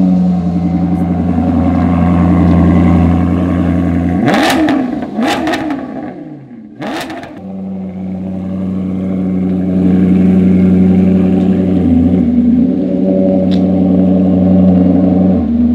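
Maserati MC Stradale engine roars in loud, sustained revs, dipping briefly as it pulls away before building again into a steady, strong drone, with brief high clatter bursts mid-way.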